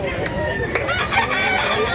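A low-priced rooster at a gamefowl market in Mantalungon, Cebu, crows briefly amid a busy, noisy background of other birds and general bustle.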